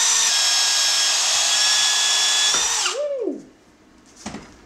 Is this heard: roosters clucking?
no